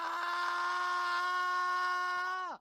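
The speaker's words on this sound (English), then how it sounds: "You'll be able to hear this battle scream." A football player's battle scream played from a recording, one sustained, strongly pitched yell lasting over two seconds that cuts off abruptly at the end.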